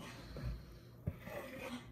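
A pet dog whimpers softly after hearing other dogs across the street, faint whines and breathy sounds with one brief sharper yip midway.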